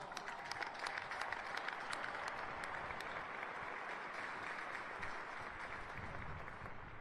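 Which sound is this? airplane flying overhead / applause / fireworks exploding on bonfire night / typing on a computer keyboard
applause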